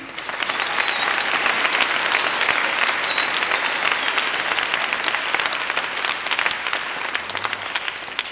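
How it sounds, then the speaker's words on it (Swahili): A crowd at a church gathering claps for the elders, a sustained burst of applause lasting several seconds, steady and fairly loud before thinning toward the end. "Makofi mengi kwa wazee wetu."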